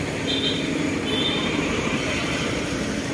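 Honda scooter engine with a worn cam chain tensioner, a few months old, running at a steady idle: a continuous close mechanical rattle and whir with no pauses, no voices.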